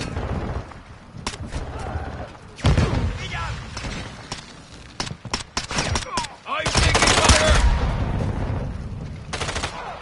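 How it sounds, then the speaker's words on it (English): In a first-person shooter game, a flash grenade is thrown amid a sharp exchange of gunfire, with bursts of shots and a loud crackling blast cutting through the action. "Throwing flash grenade!"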